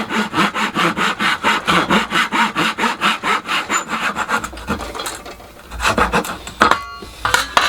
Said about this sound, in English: I'll just take that out now with a mixture of file and chisel.